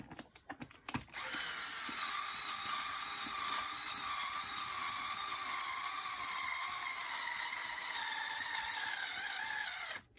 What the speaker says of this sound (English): then if you want to, you get your drill to it